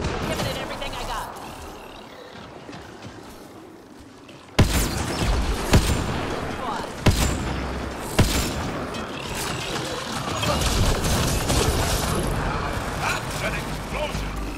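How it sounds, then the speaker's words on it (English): Explosions in the Mass Effect: Andromeda video game burst out in a series of sharp, loud booms after a quieter rumbling stretch, followed by sustained roaring blast noise, with game dialogue heard over it. "That's an explosion!"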